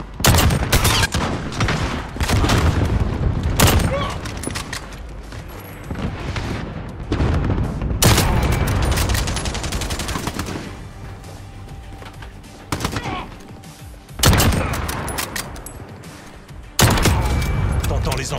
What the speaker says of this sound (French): Je me fais tirer dessus.